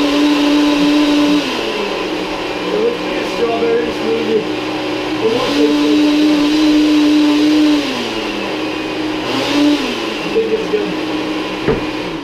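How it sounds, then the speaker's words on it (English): Blender whirring loudly as it blends a smoothie of mixed foods including bread and pickle, a steady motor roar whose pitch shifts as the chunks churn, close and continuous. "Let's get blending!"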